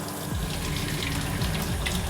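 Tap water runs steadily and fairly loud from a faucet in an off-grid cabin's plumbing, a continuous rushing flow with no voices over it.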